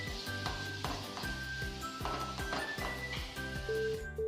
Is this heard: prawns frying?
yes